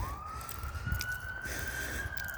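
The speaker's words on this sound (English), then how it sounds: "These over the top sirens and the police helicopter" A single police siren wails faintly in the distance, one long rising tone sweeping slowly upward over low street rumble.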